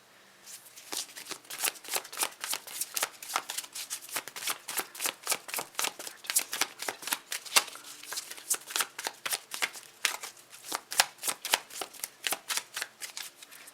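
Tarot cards are riffled and shuffled over and over in quick, crisp bursts, close and steady throughout, with no voices.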